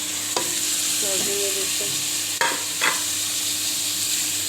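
Two potatoes and two medium onions sizzle steadily in a hot pan, with a constant loud hiss and occasional scraping stirs. A voice speaks briefly.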